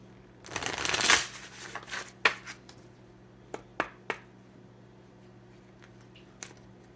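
A deck of tarot cards is riffled in one loud, close burst, followed by several separate sharp taps and flicks as cards are squared and set down, with quiet pauses between.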